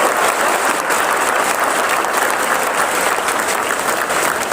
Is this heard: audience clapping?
yes